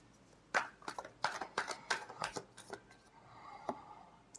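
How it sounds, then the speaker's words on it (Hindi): Tarot cards shuffled by hand in a quiet room, a run of about nine crisp riffling snaps and slaps, close and fairly loud, ending in a softer, longer rustle. "Last shuffle."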